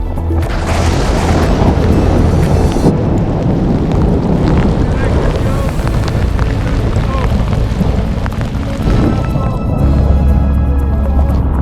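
Heavy rain and thunder outdoors on a sea-kayaking trip near Cape Wrath, Scotland: a loud, continuous roar of rain and wind buffeting the microphone, with deep booming rumbles underneath.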